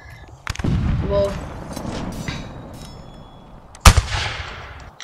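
A hand cannon or musket fires in the Rise of Liberty video game, set at the Battle of Lexington: a heavy boom with rumbling tail early on, then a second sharp blast near the end amid game noise.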